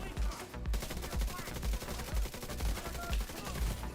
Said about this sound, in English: who's shooting at us from a distance?